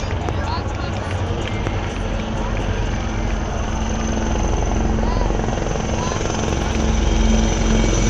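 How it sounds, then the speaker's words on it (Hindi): Indian Army Dhruv and Rudra military helicopters pass over an Army Day parade in Rajasthan, a steady low rotor thrum and engine roar that swells louder toward the end, with a voice speaking beneath it. "हर मिशन का हिस्सा बन रहे ध्रुव एवं रुद्रा हेलीकॉप्टर"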